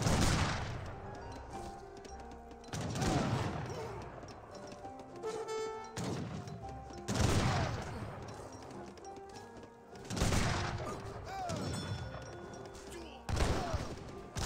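Musket volleys in Age of Empires 3, a match of Aztecs against the United States, with repeated crackling bursts of gunfire every few seconds amid battle clatter while a commentator talks over it.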